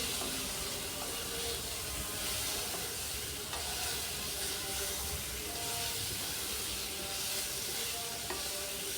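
Pre-fried chicken being stirred in a pan with fried spices, a steady dense sizzle and hiss of frying with occasional clinks of a utensil, close and continuous with no talking.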